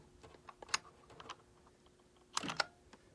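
Keys clack on a computerized typewriter keyboard, a quiet scatter of light taps followed by a louder quick burst of keystrokes near the end.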